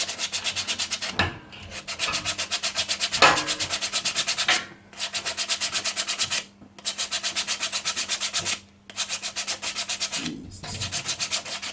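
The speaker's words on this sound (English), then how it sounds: "How much am I sanding this?" Metal brake parts from a Honda ATC front brake are sanded by hand in quick, rhythmic back-and-forth strokes, running in several bursts split by short pauses, close and clear with no talking.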